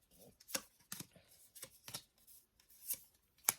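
Tarot cards being shuffled by hand, a series of quick, crisp riffling bursts spaced irregularly, close and fairly quiet.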